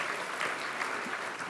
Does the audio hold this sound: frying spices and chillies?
no